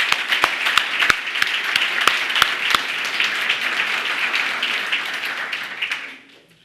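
An audience at a Detroit press conference for revitalization fellows applauds warmly. A few sharp, distinct early claps swell into dense clapping that lasts about six seconds, then drops off abruptly.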